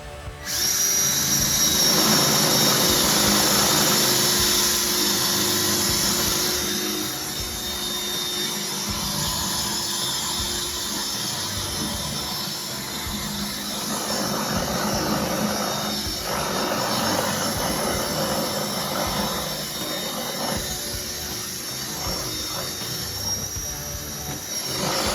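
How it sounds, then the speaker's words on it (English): A Ridgid power drill with a non-wood bit whines steadily and loudly for about twenty-five seconds, its pitch wavering as the bit bites and struggles, with no talking. "go ahead and drill a hole in this guy"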